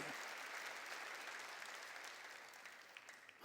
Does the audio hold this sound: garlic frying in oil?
no